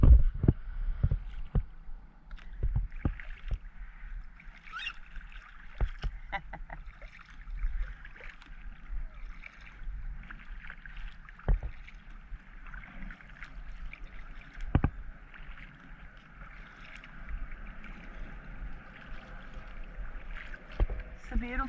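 Kayak paddling at Shell Key Preserve on a calm day, with soft intermittent paddle strokes and water splashes recurring irregularly at low level over faint wind and ambient outdoor noise.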